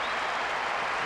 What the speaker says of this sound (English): Spectators out of their seats in acclamation.